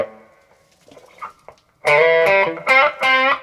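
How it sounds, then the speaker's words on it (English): Electric guitar played through overdrive, a few quiet notes first, then loud distorted chords struck in separate bursts with short gaps. "Let me just turn up that overdrive just a sec."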